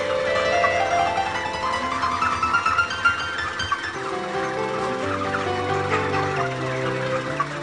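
Chickens in a poultry coop ready for harvest, many birds clucking and calling at once in a busy, overlapping chorus at moderate volume.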